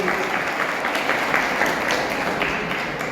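Audience applause welcoming a student to the stage at a school quiz competition held in memory of Vidyaben Chhaganlal Dave, a steady, dense clapping from a crowd that carries on evenly without a pause.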